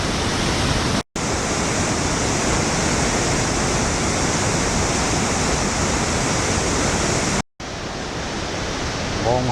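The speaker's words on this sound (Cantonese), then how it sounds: "黃河之水滾滾向前流啊！" Hukou Waterfall on the Yellow River gives a constant, loud, broadband roar of rushing water, heard up close and unbroken apart from two brief cuts.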